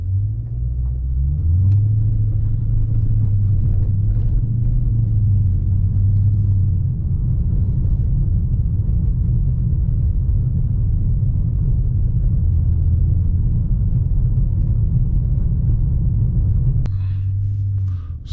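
A Dodge 392 Scat Pack's V8 rumbles loud and close, holding a steady deep idle with slight rises in pitch as it sits on launch control, then briefly cuts lower near the end.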